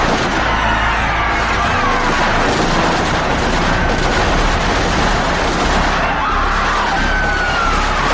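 Gunfire sound effect played loud during a school Independence Day patriotic play about Jallianwala Bagh, a dense continuous roar of shots and blasts lasting throughout without pause.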